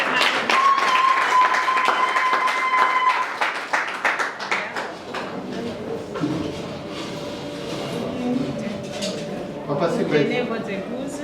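Applause for a newly married couple at a civil wedding ceremony, dense clapping from a crowd running under an officiant's voice, loud at first and easing into a lighter patter with a sustained tone behind it.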